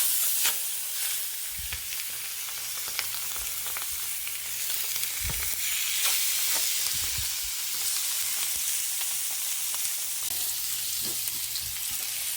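Duck breast searing fat side down in a hot pan, a steady moderate sizzle with scattered crackles and a few low thumps across the span.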